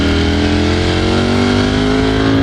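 Ducati Streetfighter V4S motorcycle engine held under steady throttle on a road ride, a loud, continuous, close V4 drone with a slowly rising pitch and no break.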